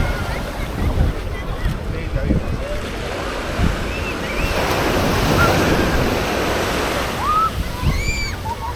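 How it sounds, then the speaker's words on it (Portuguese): Ocean surf washing steadily onto the beach at Canasvieiras, Florianópolis, at dusk after rain, a continuous broad wash with wind buffeting the microphone and faint distant children's voices. "O barulhinho das ondas"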